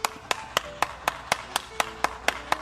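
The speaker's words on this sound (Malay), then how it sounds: "tepuk tangan" Hands clapping in a steady, even rhythm, about eleven sharp claps over a few seconds, close and alone with no talking.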